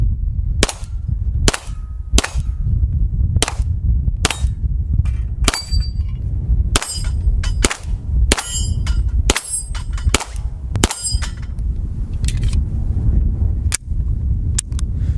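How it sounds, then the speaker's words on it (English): Rapid 9mm shots from a Beretta M9A3 pistol ring out on steel targets at close range, a string of sharp cracks each followed by a metallic clang, some spaced apart and others in quick bursts, with no talking. "I said we get a little bit closer just so we could ring some steel"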